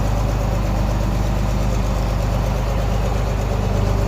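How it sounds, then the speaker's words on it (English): A Ford 8N tractor's engine runs steadily at close range while the tractor is moved into a garage, a loud, constant low idle-like drone without pauses or speech. "now I'm going to start moving my Ford 8N into our garage where it's a little warmer"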